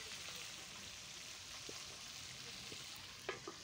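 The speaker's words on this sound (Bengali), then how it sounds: "এই মাছটাকে লাল লাল করে ভাজলে এটা খেতে স্বাদ হয়।" Hybrid magur catfish fries in a pan with a faint, even sizzle and a couple of small pops near the end.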